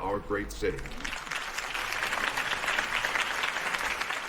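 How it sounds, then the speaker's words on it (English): A video game crowd breaks into sustained applause, a dense wash of clapping following a brief voice at the start, in Telltale's Batman. "If only Mr. Wayne, my campaign's largest backer, could have heard that applause, he would..."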